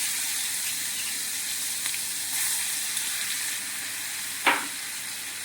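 Ginger, garlic and chili paste fries in oil in a pan, giving off a steady, close sizzle with faint stirring scrapes and one brief sharper clink near the end.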